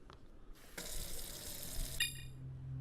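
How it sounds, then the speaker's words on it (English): Water splashes in a video game as it is thrown onto a computer during a rooftop fire scene, a sudden gushing pour that keeps rushing for a couple of seconds, followed by a short bright electronic tone. "He didn't want to throw the water on the computer, but he knows it's his only option."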